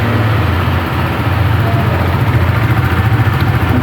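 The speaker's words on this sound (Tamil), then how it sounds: "நான் உங்களுக்கு ரைஸ் பண்ணி காட்டுறேன் ஃபோக்ஸ். இப்போ வண்டியோட எக்ஸாஸ்ட் நோட்டு கேட்போம்" A KTM RC390 motorcycle exhaust runs loud and close with a steady, throbbing low rumble that pulses slightly throughout, with no other sound alongside.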